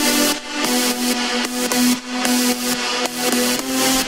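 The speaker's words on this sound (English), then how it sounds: "So you can hear that ducking is taking place." A dense chord stack in Ableton with sidechain ducking pulses in a steady rhythm, the level dipping and swelling on each beat, loud and full with no talking.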